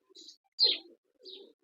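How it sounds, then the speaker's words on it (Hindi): Three short calls from a Teddy King pigeon sound close and fairly quiet, spaced apart by brief silences, with a soft chirp, then a stronger coo, then a final softer call. "बहुत बेहतरीन कबूतर है"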